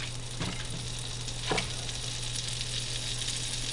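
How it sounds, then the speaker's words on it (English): Butter melts and sizzles in a pan ahead of sautéing onions, a steady moderate hiss with a couple of brief scraping or stirring sounds, no talking. "Let's put butter down and saute our onions."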